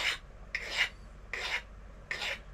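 A burr being filed off a steel block by hand for a scratch-built model steam engine, with four short, crisp rasping strokes in a slow, even rhythm, close and alone.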